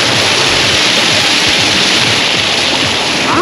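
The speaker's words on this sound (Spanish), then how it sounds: "vamos a darnos un masaje con el chorro de agua." A water jet splashing into a hotel swimming pool in Cancun: a loud, steady, broadband rush of gushing water that fills the whole clip, close up and with no talking over it.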